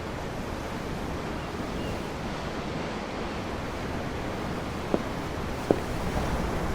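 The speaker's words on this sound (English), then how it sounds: "The waves. They help me think." Steady ocean waves and wind from the game Tales of Arise, heard at sea from a sailing ship, a continuous rushing wash with two faint clicks near the end and no speech.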